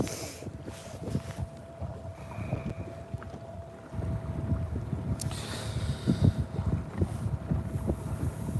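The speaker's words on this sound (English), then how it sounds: "this wind is just terrible right now" Strong wind buffets the microphone outdoors on a lake while fishing from a boat with planer boards out, a steady rushing roar with gusty bumps that grows louder partway through.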